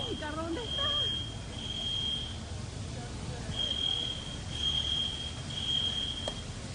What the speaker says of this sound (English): You can hear an alarm going off